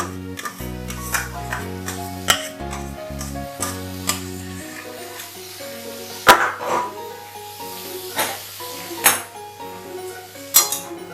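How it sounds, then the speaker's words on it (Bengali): A metal utensil stirs and presses mashed young jackfruit in a pan, with irregular scraping and sharp clinks against the pan, loud and close, over a faint hum and no talk. "এটাকে এর সাথে এবার ভালোভাবে আমি মিশিয়ে নেব।"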